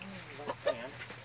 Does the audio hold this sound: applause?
no